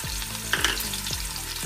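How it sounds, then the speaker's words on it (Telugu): Mustard seeds, black gram, cumin and chana dal sizzle and crackle in hot oil in a kadai as a steady, close frying hiss with a few brief stirring scrapes and pops. "శనగపప్పు, పోపు దినుసులు వేసి ఫ్రై చేసుకుందాం"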